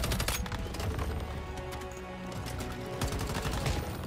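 Automatic gunfire aimed at enemies in the Once Human video game: a steady, rapid stream of close, loud shots, dense and rhythmic, running throughout with small impact clatters mixed in and no talk.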